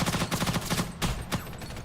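Rapid gunfire in Ghost in the Shell: First Assault Online, a dense burst of automatic shots with a couple of sharper louder reports near the end, close and loud with no speech.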